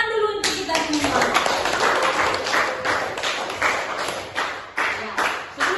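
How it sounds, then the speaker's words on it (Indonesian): A classroom of students claps together in loud, dense applause that goes on for several seconds and then breaks into scattered claps, with voices mixed in. "Tepuk tangan dulu untuk kita semua."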